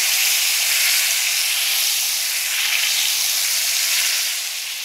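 Loud, steady sizzling of roast beef searing in a hot pan, a dense crackling hiss that continues throughout and eases slightly at the end.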